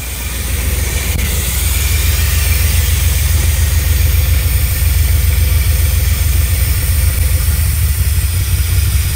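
A 1984 Corvette that had sat unused for years runs with a loud, steady engine drone and low rumble as it is shifted into gear, with no talking.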